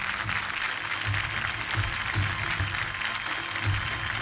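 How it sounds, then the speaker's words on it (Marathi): An audience in Kankavali applauds dignitaries as they come up onto a stage, with steady broadband clapping through the whole stretch and some low thumps underneath. "जरा जोरदार टाळ्या झाल्या पाहिजेत या मान्यवरांसाठी"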